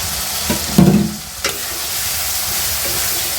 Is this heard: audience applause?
no